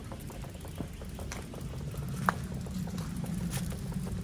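Soft, steady rain on a wet July morning, a faint continuous patter with occasional small drips and ticks, quiet and fairly distant, no voices.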